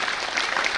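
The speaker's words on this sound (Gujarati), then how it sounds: "જોરદાર તાળી વજાયો" Loud applause from a crowd at a Republic Day school event at Sedata school, a short, dense, steady burst of clapping with no voices.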